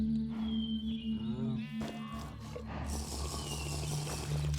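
Cows lowing in the video game Minecraft: several drawn-out, fairly close moos that rise and fall, alone over a constant low rumbling game background.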